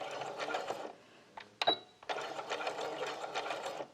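A sewing machine stitching the start of a seam on a small beach or pajama shorts, with a backstitch: a steady mechanical whirr that stops briefly, then a short click and a burst, before it runs on again, close and clear.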